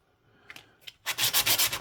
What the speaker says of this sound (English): I'm just sanding it down